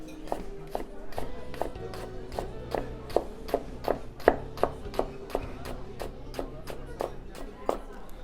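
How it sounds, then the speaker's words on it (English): A knife julienne-cuts an onion on a board in quick, evenly spaced chops, crisp and close, with someone talking over the cutting. "we're going to take one layer off. And we're going to do a really thin julienne"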